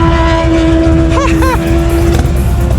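A 1984 FXRT motorcycle with a fairing runs nearby with a loud, steady low rumble and a constant tonal hum, while people talk excitedly over it.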